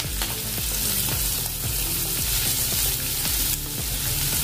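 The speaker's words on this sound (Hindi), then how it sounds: "अभी इसमें डालेंगे प्याज बारीक कटा" Finely chopped onion frying in a pan for a spinach dish, giving a steady loud sizzle with scraping stir strokes throughout.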